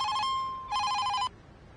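A telephone rings indoors in two clear electronic trills separated by a brief pause, moderately loud and alone with no voices.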